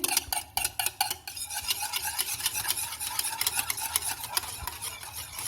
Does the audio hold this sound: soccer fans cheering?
no